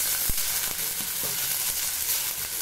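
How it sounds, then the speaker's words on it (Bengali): Vegetables and green peas frying in oil in a wok for fried rice, a steady broadband sizzle with a few soft knocks from stirring, close and moderately loud with no voices. "এবারে আবার কড়াইটাকে পরিষ্কার করে তেল দিয়ে সবজিগুলো ভেজে নিচ্ছি।"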